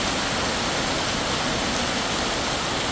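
Heavy rain pours down in Tha Muang, Kanchanaburi, with runoff water rushing past, making a close, steady, dense hiss and roar that holds evenly for the whole stretch without any voices.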